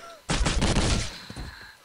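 Mob infighting in Postal 2 sets off a rapid burst of video game gunfire, close and loud for about a second, then a few scattered shots trail off.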